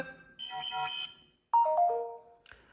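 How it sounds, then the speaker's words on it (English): A short electronic notification chime on a Samsung Galaxy S24 plays alone and clearly: a bright synthetic tone cluster, a brief pause, then a sharp gliding melodic phrase with a faint tail at the end. "the default notification sound for SMS messages is space line"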